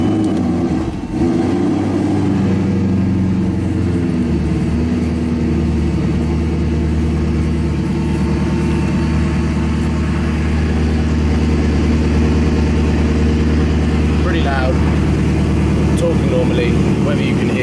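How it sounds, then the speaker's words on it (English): A supercar in Paris idling loudly after a cold start, a deep steady engine drone with a sustained low rumble lasting the whole stretch, close and dominant, with a few faint higher squeaks late on. "let you guys hear the car and for you to get a good idea of how loud the car is once it's on cold start"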